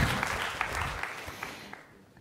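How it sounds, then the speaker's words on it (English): Applause from a talk audience, a brief burst of claps that starts moderately and thins out within about two seconds. "You could clap too."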